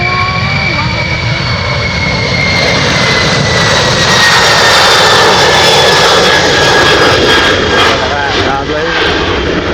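A Qatar Cargo Boeing 777 freighter jet taking off makes a loud, continuous engine roar that stays close and powerful throughout, with a steady high whine riding over the deep rumble.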